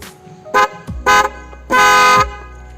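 A loud Mocc & Minda trumpet car horn honks three times, two short toots followed by a longer blast, with a musical, trumpet-like tone and quiet gaps between.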